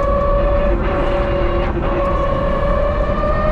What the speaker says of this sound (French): Quelques bruits de transmission.